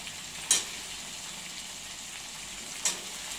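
Mixed seasonal vegetables such as eggplant, potato and tomato fry quietly in a pan, a soft, steady sizzle broken by two brief sharp spatters.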